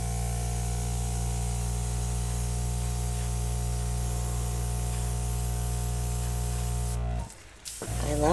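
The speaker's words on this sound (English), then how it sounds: "I just want to push a couple of pieces out with my airbrush." An airbrush spraying paint over a Dutch-pour acrylic piece makes a loud, steady hiss for about seven seconds, then cuts off abruptly before a brief clatter.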